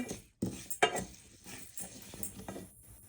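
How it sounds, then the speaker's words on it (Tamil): Dry urad dal being roasted in a pan, with close, scraping stirs and clinks of a utensil against the metal in short irregular bursts. "அடுத்தது உளுந்து வறுக்கிறேன்"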